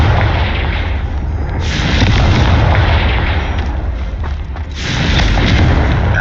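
Confringo fire-blast spells bursting in Hogwarts Legacy, two loud booming explosions a few seconds apart, each with a rushing, rumbling tail, close and heavy, with no talking.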